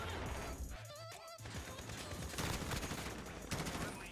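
Sustained automatic gunfire in Modern Warfare, aimed at a UAV overhead, with steady rattling bursts under faint background noise. A player's voice briefly comes through near the start.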